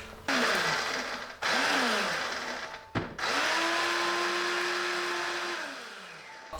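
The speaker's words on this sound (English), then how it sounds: "I'm just gonna blend this up now." Dried herbs being ground in a kitchen blender: a loud whirring motor runs in bursts, stopping briefly twice before a longer steady spin that winds down at the end.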